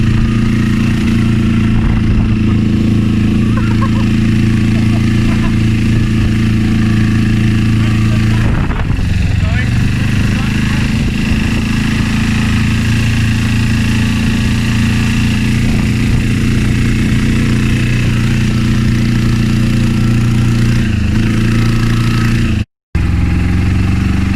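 An Arctic Cat 700 diesel turbo quad with an overheating warning runs loud and close, a steady droning engine note holding throughout with a momentary dropout near the end.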